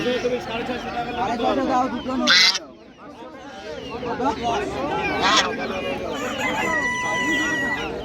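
Chickens at a busy poultry market, a rooster crowing and hens clucking amid a crowded din of birds and voices, with people talking nearby throughout.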